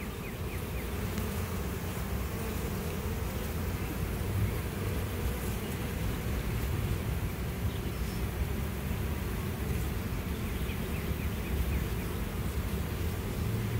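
A large honeybee swarm buzzes steadily around a big box of bees, a dense, even drone that holds close and loud throughout with no pauses.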